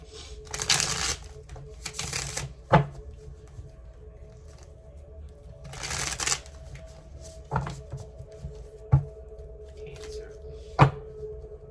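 Tarot cards shuffled by hand in bursts, with riffling rustles and a few sharp snaps as the deck is squared, close up over a low steady hum and faint background voice.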